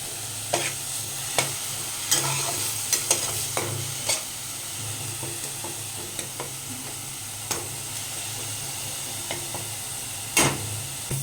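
Onions fry in a pan with a steady, moderate sizzle while a spoon scrapes and knocks against the pan in occasional sharp clicks, part of cooking a sour rohu fish curry with raw mango; no one talks.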